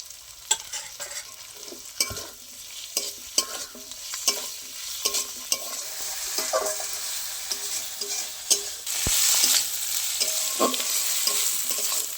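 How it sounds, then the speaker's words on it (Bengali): Tomato and green chilli frying with ginger and garlic in a pan, a steady sizzle with repeated scraping stir strokes, close and moderately loud, no talking. "এবার আমি দিয়ে দেবো টমেটো একটা টমেটো কুচি করে নিয়েছি দিয়ে দেবো"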